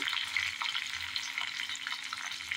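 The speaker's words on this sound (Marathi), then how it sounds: "आता ही छानपैकी फोडणी आपण ढवळायची." Chillies and curry leaves frying in hot oil for a tempering, a steady crackling sizzle with light stirring throughout, close and alone without any voices.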